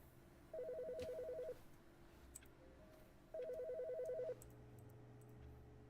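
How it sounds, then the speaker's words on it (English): A telephone rings in the game The Stanley Parable, two electronic warbling bursts about a second long, spaced nearly three seconds apart, faint and distant in a quiet room. "There's a phone ringing, I can hear it."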